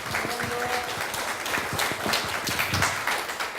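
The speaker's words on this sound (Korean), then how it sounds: "박수 한번 좀 부탁드리면 어떻겠습니까" A seated audience at a Korean agricultural policy presentation breaks into steady, dense applause, a sustained wash of many hands clapping at moderate volume that carries on for the whole few seconds, with faint voices mixed underneath.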